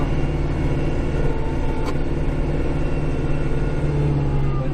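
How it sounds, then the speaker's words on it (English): A tractor engine rumbles steadily while plowing snow, a low, continuous mid-pitched drone close by with a slight rise in revs near the end and no speech. "A guy sitting in a tractor plowing snow"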